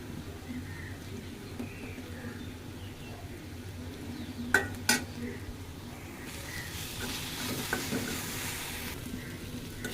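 Jute greens sizzle steadily in a hot pan while a spatula scrapes and clinks against the metal now and then, with a voice talking over it.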